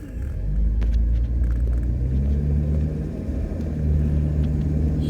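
A Series 1 Jaguar Daimler Sovereign 4.2 automatic pulls away on the road, giving a steady, low engine rumble heard from inside the cabin that holds even throughout, with no talking.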